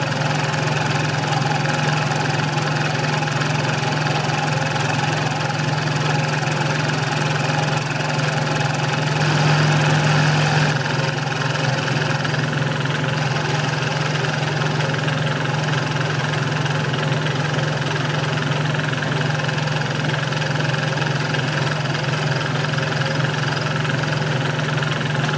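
Metal slotter machine making a zigzag cut during a rebuild, a steady loud mechanical drone with a constant motor hum running throughout and a brief swell near the middle, no talking.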